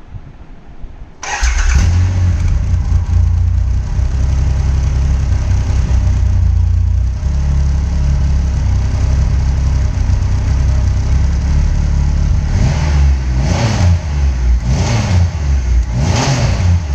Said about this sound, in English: For now, just listen to the stock exhaust.